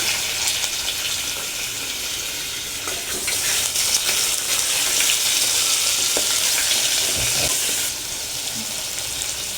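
Mutton legs sizzle with softened onions in a hot pan, a loud continuous frying hiss with occasional stirring scrapes, briefly swelling and then easing off near the end.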